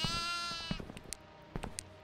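A goat in the horror video game Devour lets out a long, wavering bleat up close, followed by scattered clicks and thumps.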